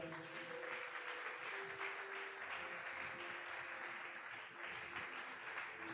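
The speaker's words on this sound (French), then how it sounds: "On acclame le Seigneur." A church congregation applauds at a moderate level in a steady, sustained wash of clapping, with a faint tonal hum or held note running underneath.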